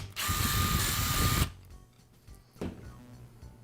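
A power driver whirs loudly for about a second, backing screws out of the sub-base of a Ridgid laminate trimmer, followed by quieter clicks and handling noises.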